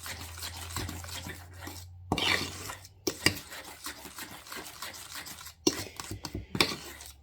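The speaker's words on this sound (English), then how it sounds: "And you just stir this up, I guess, until you like the consistency" A spoon stirs a thick vanilla glaze around a bowl, producing steady close scraping and swishing, with a few brief pauses and sharper clinks against the bowl's side.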